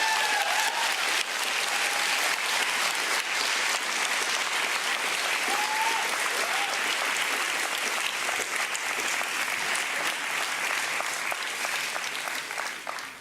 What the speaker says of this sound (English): Clap for Mike.